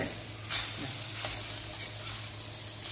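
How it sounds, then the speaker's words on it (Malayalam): Masala with grated coconut fries in a pan for a roasted coconut prawn curry, giving an even, soft sizzle with a couple of light scraping stirs; no voices are heard. "എന്നിട്ട് അത് വറുക്കുക. നല്ല ഒന്ന് പൊരിയണം, അതുവരെ നമ്മളിത് വറുക്കുക, പച്ചമണം പോകണം."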